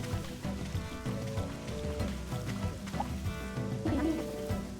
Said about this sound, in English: You're blocking out the sound of the raindrops.